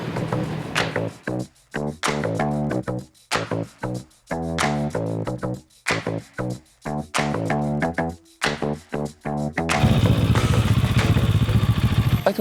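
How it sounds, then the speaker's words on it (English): A Chinese motorcycle engine runs with a grunty, pulsing note, rising and falling in repeated bursts of revving for about ten seconds, then giving way to a louder, rougher steady roar near the end; no one talks. "The sound of the bike is the soul of the bike, and this is a grunty gym bro of a bike."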